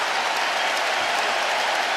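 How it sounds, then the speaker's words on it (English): Steady, dense applause and a standing ovation from a large college basketball crowd, Arizona State vs. Iowa State, fills the whole moment without a break. "To a round of applause and some fans with a standing ovation."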